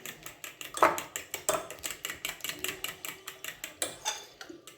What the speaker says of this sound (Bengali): আমি একটা কাঁটা চামচের সাহায্যে ফেটিয়ে নিচ্ছি।